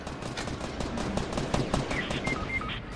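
Rapid gunfire from the video game Fortnite, bursts of dense shots running throughout under busy game sounds, with several short high electronic tones near the end.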